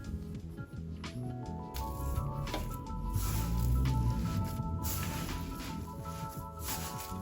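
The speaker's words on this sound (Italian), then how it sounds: "Ci servirà lo schiacciapatate" Boiled potatoes pressed through a potato masher for a leek, carrot and olive stuffed focaccia, a close wet squishing and squelching that swells in the middle and continues steadily.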